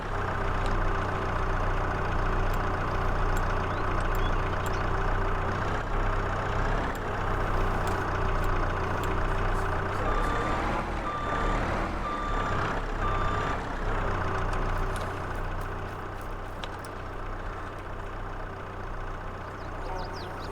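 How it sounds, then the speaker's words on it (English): Steady loud drone of an 8RT tractor engine in Farming Simulator 22, running continuously near and up front, with a few short beeps partway through and a voice talking over it. "Now, I do like these 8RT tractors"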